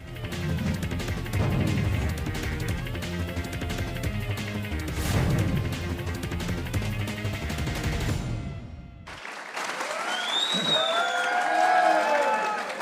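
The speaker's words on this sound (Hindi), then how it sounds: "एक बार सरफराज अहमद के लिए तालियां करेंगे।" A studio audience at a Pakistani TV cricket talk show applauds in a sustained burst of clapping, loud and dense, before music briefly takes over.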